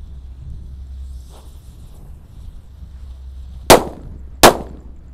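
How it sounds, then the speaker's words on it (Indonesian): Two sharp, loud bangs from gorilla firecrackers go off about a second apart, each a crisp blast with a brief ringing tail, after a quiet stretch of low wind rumble. "Selanjutnya kita nyalakan 2 mercon gorila ini"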